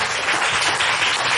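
Church congregation applauding to acclaim Jesus Christ, a dense, steady wash of many hands clapping together, loud and continuous with no voices over it.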